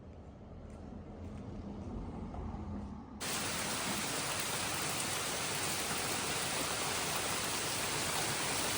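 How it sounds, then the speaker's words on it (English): Rain pours down steadily at a campsite on a long European cycling tour, a dense, even hiss that grows abruptly louder partway through and continues without a break. "The rain caught me in the last 15 minutes before I was about to arrive to my camp"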